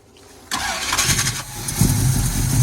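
An Oldsmobile Cutlass engine, sitting for years after fuel pump trouble, cranks briefly and catches, then settles into a rough, loud, close idle with fluctuating revs.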